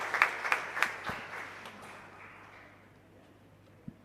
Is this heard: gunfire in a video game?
no